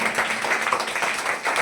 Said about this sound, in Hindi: तो उनके लिए जोरदार तालियां बजाओ।